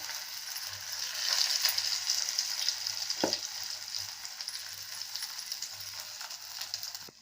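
Raw plantain slices roast on a hot tawa with a steady, bright sizzle and crackle, close and fairly loud, with one sharp clack from a utensil partway through.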